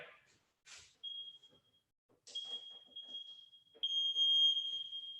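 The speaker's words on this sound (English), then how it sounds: "I'm gonna hit the timer right now" A workout timer alarm during a home beginners' jiu-jitsu class sounds a sustained high electronic beep in two long stretches, fairly faint, with a few short scuffs and a voice in between.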